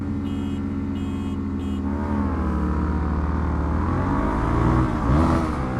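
A Suzuki DRZ motorcycle engine revs hard against the limiter at close range, a dense buzzing drone with rapid stuttering, then pitch swings as it launches away, with no talk.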